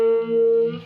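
A single sustained electric guitar note run through a univibe effect, its tone gently throbbing and wavering as it rings, heard alone and close for under a second.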